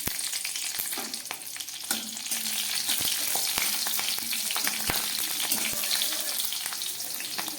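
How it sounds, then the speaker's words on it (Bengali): Bay leaf, cumin and green chilli drop into hot oil left over from frying vadas for a vegetarian ash gourd dish, giving a loud, steady close sizzle with scattered stirring clicks and no talk. "এই বড়া ভাজার তেলের মধ্যে দিয়ে দিচ্ছি একটা তেজপাতা, আর দিয়ে দিচ্ছি একটু জিরে, আর দিয়ে দিচ্ছি একটু কাঁচা লঙ্কা।"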